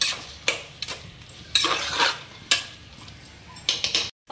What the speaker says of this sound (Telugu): మసాలాలు కలిసేలాగా మనం ఇందులో వేసి ఇలా కలిపేసుకోవాలి.